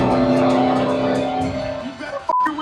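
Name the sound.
car engine accelerating in a chase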